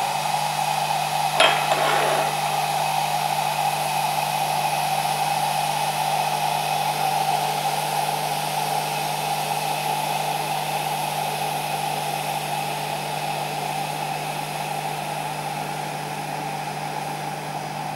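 An electric Turkish coffee pot heats water toward a boil, producing a steady, close electric hum with a faint bubbling hiss that holds evenly throughout, after a brief click near the start.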